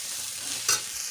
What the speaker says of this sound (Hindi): अब हम इसमें लहसुन और अदरक का पेस्ट भी डालकर भून लेते हैं।